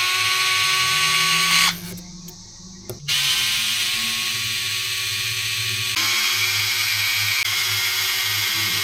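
A power drill whirs steadily while unscrewing the shock and Panhard rod mount on a Redcat Ascent RC car. It is close and loud, with a short pause midway before the motor resumes.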